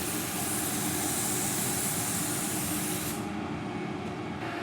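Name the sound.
spray painting third coat on BMW E60 panel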